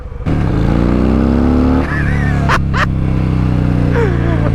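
A 2021 Harley-Davidson Fat Bob engine rumbles loud and deep at close range, then gets a couple of sharp throttle blips just past the midpoint before settling back into a steady, heavy idle.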